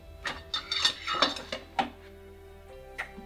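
Two metal spoons clatter as they're set down in a home kitchen during a chicken stir-fry, a few sharp clinks and taps in a brief irregular cluster, fairly close and alone.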